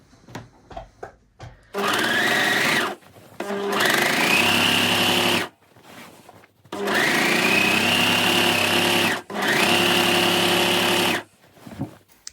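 An overlocker sewing machine stitches along the outside edge of fabric for a pinafore dress, running in two long, loud, steady whirring bursts separated by a short pause, with quiet handling sounds before and after.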